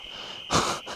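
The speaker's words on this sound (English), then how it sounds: "listen to how loud the insects are out here" Loud insects chirp outdoors near Mount Shasta in Siskiyou County, a steady high-pitched drone running throughout with a brief louder rasping swell midway.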